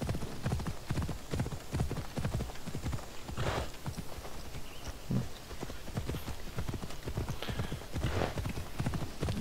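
A horse galloping in the video game Assassin's Creed Odyssey, rapid rhythmic hoofbeats pounding steadily throughout, close and continuous, with brief breathy snorts and faint background ambience.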